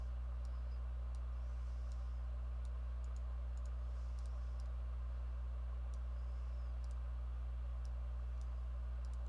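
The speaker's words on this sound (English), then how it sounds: "Stop double clicking." Mouse buttons clicking softly at a computer during map editing, with scattered quick paired clicks spread out over a steady low electrical hum and no voices.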